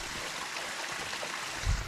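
Rushing water roars steadily nearby, a broad continuous wash from a waterfall at the Dombrovskyi quarry, with a brief bump near the end.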